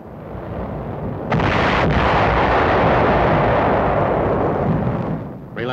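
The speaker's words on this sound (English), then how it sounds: "preliminary shelling clears the beach of enemy opposition" Preliminary artillery shelling pounds an island beach in 1945 wartime combat footage: a loud, sustained roar of blasts swells suddenly after a quieter rumble, holds heavy and dense, then eases before a final burst.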